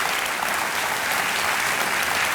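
Steady applause from a television quiz-show studio audience for a contestant, a dense continuous wash of clapping held at even loudness throughout, with no talking over it.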